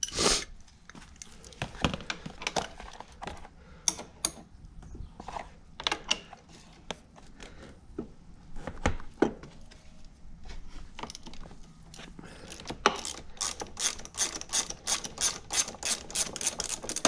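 Ratchet working a 14mm bottom shock mount bolt loose, a long run of quick close clicks in uneven bursts, speeding into a dense clatter near the end, with no talk.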